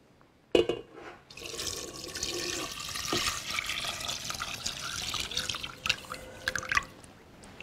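Water poured from a tap or jug into a cooking pot for chickpea soup flavoured with a cinnamon stick, a steady splashing, gurgling stream running for several seconds, close and fairly loud with no talking.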